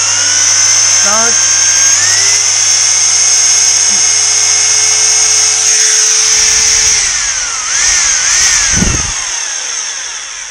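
A Lidl Parkside SDS rotary hammer drill runs loudly and steadily, its motor whine rising as the speed is stepped up, then shifting pitch near the end with a brief low thump.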